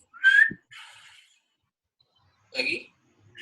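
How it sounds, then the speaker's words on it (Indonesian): A person whistles briefly as part of a facial movement check: a short, clear whistled note followed by softer breathy bursts, close and fairly quiet, with long pauses between. "Bersiul."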